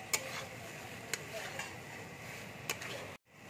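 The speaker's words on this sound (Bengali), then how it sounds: "এবার আমি আলুটা দিয়ে দিচ্ছি। আলুটা দিয়ে একটু নেড়ে চেড়ে আমি জল দিয়ে দেবো।" Mutton keema with potatoes being stirred in a pan, with a few sharp spoon scrapes against the metal over a steady low background hiss, before a brief drop to silence.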